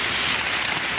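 Steady rain pattering on covers sheltering a succulent garden outdoors, a dense, even hiss of drops throughout the short stretch with no voices.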